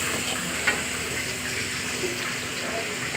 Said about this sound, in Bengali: অল্প পানি দিয়ে দিলাম সাধ্য মতো